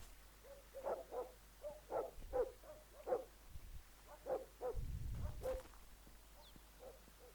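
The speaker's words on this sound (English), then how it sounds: "The dog's barking at this corner." A dog barks repeatedly in Drug Dealer Simulator, a run of evenly spaced, fairly faint woofs at a corner, with a brief low rumble underneath partway through.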